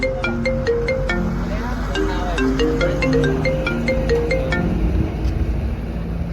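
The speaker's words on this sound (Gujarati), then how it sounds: "અલ્યા તો મન્યાનો ફોન" A mobile phone rings with a repeating electronic melody, loud and close, cycling its short tune for several seconds against a low background hum.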